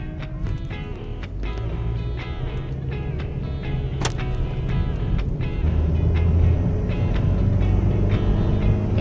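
A 2018 Nissan Versa 1.6 SV engine at full throttle, a steady loud drone that rises gradually over nine seconds with road and wind noise, and no talk.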